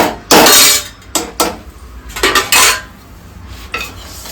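A utensil clanks and scrapes repeatedly against a pot while mutton kulambu is stirred, giving loud, irregular metallic knocks in bursts with short pauses between them.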